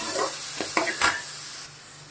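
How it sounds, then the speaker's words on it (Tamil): Onion and curry leaves sautéing in masala in a pan give a steady soft sizzle, with a few brief scraping stirs near the middle before the sound drops quieter toward the end. "அதில் வெங்காயத்தையும் கருவேப்பிலையும் போட்டு வதக்குவோம்"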